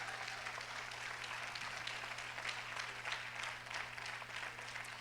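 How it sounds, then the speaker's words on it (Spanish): A church congregation applauds at a sermon, a steady, soft patter of clapping spread through the room for about five seconds over a constant low hum. "Usted puede aplaudir porque esto es una verdad gloriosa."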